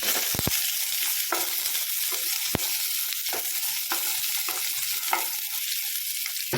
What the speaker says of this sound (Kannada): ಈರುಳ್ಳಿ, ಹಾಕ್ಕೊಂಡು ಸ್ವಲ್ಪ ಫ್ರೈ ಮಾಡಿ.